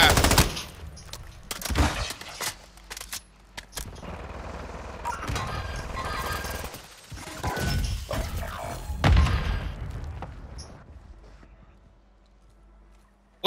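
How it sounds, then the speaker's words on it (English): Cover-fire gunfire in Call of Duty: Modern Warfare II, irregular bursts and heavy thuds of shots and impacts, loud then fading toward the end, with talk mixed in. "we laying down cover fire"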